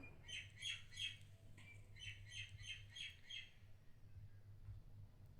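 A parrot chick squawks while being fed banana, giving repeated shrill, harsh calls in bursts, some doubled, close by over a steady low hum, with no talking.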